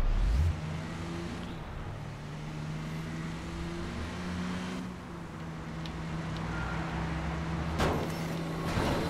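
A car engine hums steadily while driving in the video game Watch Dogs, with a low sustained drone that shifts pitch slightly and a brief clatter near the end.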